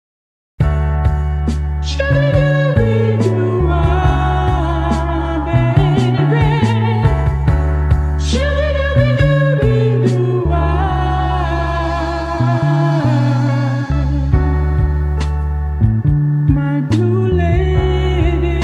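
A soulful 70s-style song plays loud and continuous, with a groove of drums, bass and melodic instruments carrying throughout.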